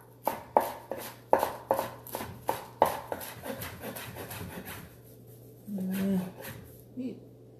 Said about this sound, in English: Let's do a quick chop.